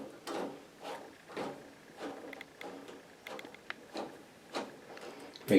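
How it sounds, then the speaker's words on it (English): A screwdriver drives in the screws on a door knob lock with repeated short grinding twists in an uneven rhythm. The sound is close and fairly quiet. "just put your hand around the back, hold the lock, and screw it in"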